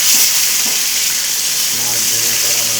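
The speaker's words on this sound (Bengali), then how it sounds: "মাছ ভাজা হচ্ছে" Fish frying in hot oil for a large communal meal, a steady close sizzle and hiss running throughout, with brief faint background voices.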